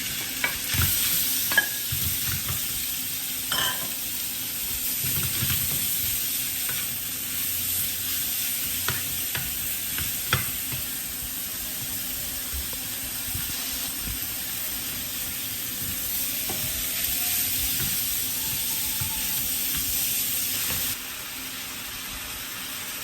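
Beef stir-fries in a pan with browned garlic, a continuous loud sizzle and hiss broken by occasional clinks and scrapes of stirring, lasting throughout without talk.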